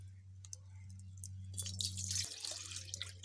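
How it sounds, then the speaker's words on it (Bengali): A bowl of water is poured into a wok on a lit stove, a short splashing, trickling burst in the last half of the clip after a steady low hum, close by. "এক বাটি জল দিয়ে দেব কড়ায়।"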